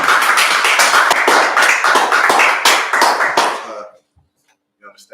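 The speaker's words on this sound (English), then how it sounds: "come on, let's clap it." A group clapping together in a steady, dense, fast rhythm for about four seconds, loud and close, then stopping abruptly into near silence with a faint stray sound at the end.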